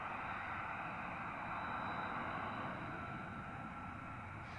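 An F-35 fighter jet taking off at RAF Marham makes a continuous broad engine roar that holds steady and fairly distant throughout.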